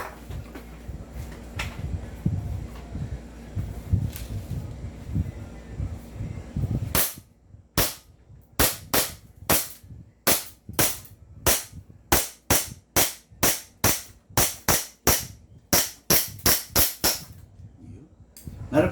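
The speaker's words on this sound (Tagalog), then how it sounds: "Baka may mga mangilang-ilang putok pa yan." Airsoft guns, a 1911 pistol and an M4A1 rifle, fire a rapid string of sharp, loud cracks in quick rhythm after a stretch of low background rumble, with no voices over the shots.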